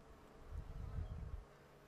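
Honeybees buzzing inside a hive during a brood inspection, with a steady low hum that swells in the middle and holds close and fairly quiet, and no talk over it.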